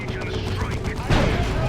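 A lascannon shot fires in Dawn of War II: Retribution as a sudden booming blast partway through, over a busy background of battle gunfire, with a commentator talking throughout.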